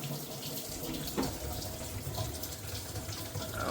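Water gushing from a bathroom sink faucet that has no aerator, a steady, unbroken rushing stream heard close and alone for a few seconds.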